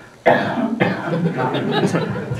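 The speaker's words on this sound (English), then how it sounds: "Who coughed?" A single sharp cough bursts out close by during a convention panel, followed by a murmur of voices in the room.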